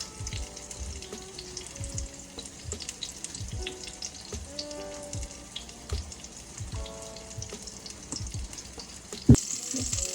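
Zucchini sizzles and fries in a hot pan, a steady crackling hiss running throughout with occasional low clatters and water-like splashes, and a sharper bump near the end, with no talking.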